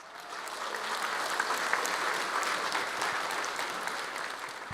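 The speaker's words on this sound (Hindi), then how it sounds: "जितना आप लोगों ने ताली बजाया ना" A seminar audience applauds at a business talk, a steady wash of many hands clapping that swells briefly and holds at moderate loudness for several seconds without voices.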